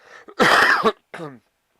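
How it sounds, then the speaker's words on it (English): A single harsh cough with a short throaty follow-up, close and loud, then a brief quieter cough-like sound before silence. "Excuse me, I'm still coughing."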